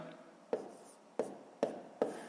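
Pen marks on paper as numbers are written out by hand for a fifth-grade decimal multiplication exercise, four short scratchy strokes in a steady rhythm, close and fairly quiet, with no talking.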